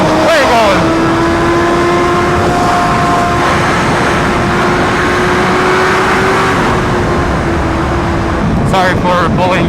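A BMW HP4 motorcycle fitted with an SC Project exhaust runs fast at high speed, giving a loud, sustained engine drone with wind rush, and a brief burst of talk near the end.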